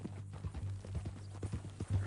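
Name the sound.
horse hooves clip-clopping in video game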